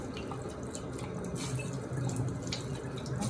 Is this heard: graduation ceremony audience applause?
no